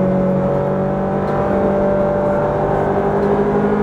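A Ferrari 458 Speciale engine pulls hard on a track, a loud, steady high-revving drone with a sustained whining tone, heard from close by.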